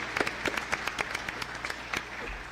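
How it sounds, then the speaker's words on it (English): Scattered applause from a small audience at a community town hall meal, individual claps distinct and uneven, moderately close, with no voices over it. "if you give them a round of applause for having our meal here today"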